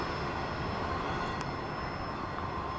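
A CSX freight train rolls past at a railroad crossing with a steady, broad rumble and rail noise, continuous and moderately loud throughout, with no voices.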